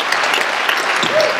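Congregation applauding in a church service, a dense, steady wash of clapping hands sustained throughout with a few faint voices mixed in.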